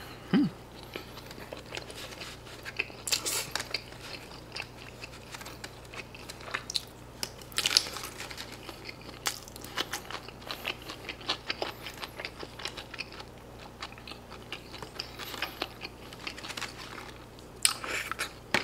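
Crunchy bites and chewing of a convenience-store pizza-cheese pork cutlet boxed meal, close up and quiet, with irregular crisp crunches repeating throughout against a faint steady hum.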